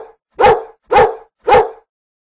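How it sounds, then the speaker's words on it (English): A dog barks three times in a steady rhythm, each bark loud, close and sharp, with brief silences between. "What sound does a dog make?"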